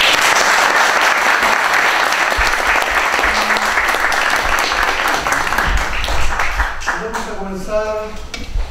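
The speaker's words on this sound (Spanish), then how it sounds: "Le damos un fuerte aplauso nuevamente." A conference audience applauds strongly for several seconds, the clapping thinning near the end as a voice begins to speak.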